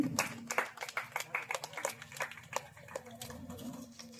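Audience clapping at a social service trust logo unveiling, a quick patter of hands from a modest crowd, fairly distant, with faint voices mixed in.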